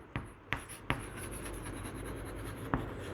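Writing on a board during a physics class: a steady scratchy stroke texture punctuated by four sharp taps as the writing tool strikes the surface, close and moderately loud.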